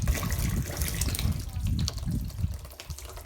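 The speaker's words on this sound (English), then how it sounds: "Water run." Water runs along a farm on Jamaica while fertilizer is being carried in it, a close, rushing gurgle with a low rumbling churn that swells and eases over a few seconds.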